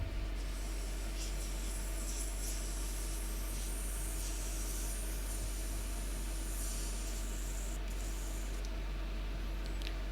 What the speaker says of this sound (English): I will spray a bit of water through.